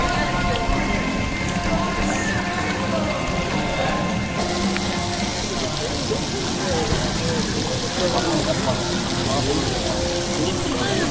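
Steady rain falling on surfaces at an outing in Waiwera, New Zealand, a dense constant patter filling the whole stretch, with faint voices in the background.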